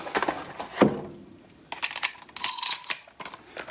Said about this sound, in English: If you go to load your typical 3-inch shells